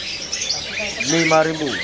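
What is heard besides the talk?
Jalak kebo starling calling at a bird market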